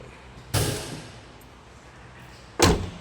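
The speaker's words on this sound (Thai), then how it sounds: "แหงประตูนะเพื่อนๆ แบบนี้เลย แคปเปิดได้นี่" The cab door of a used pickup truck with a 1.9 engine is handled at a used-car lot: two distinct door thumps land about two seconds apart, close and moderately loud over a quiet hum.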